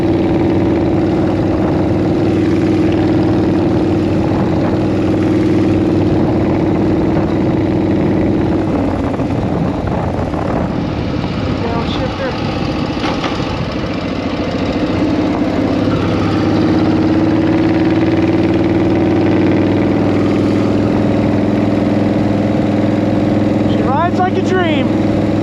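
A 1940 flathead motorcycle engine running loud and close, with a steady low throb and a rumble that rises and falls across the whole stretch, a voice heard over it at times.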